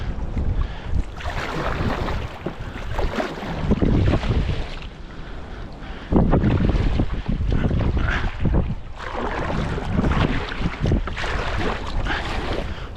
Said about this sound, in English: It looks a bit windy out there.